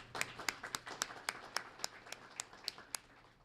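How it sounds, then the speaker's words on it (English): An audience at a school student-of-the-month event gives scholarship contributors a round of applause: sparse, distinct hand claps in a steady, faint rhythm, a few people clapping rather than a full roaring crowd. "let's give them a great round of applause"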